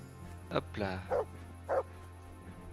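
A dog in the video game Kingdom Come: Deliverance lets out several close, sharp barks and a short yelp in quick succession over a low background hum.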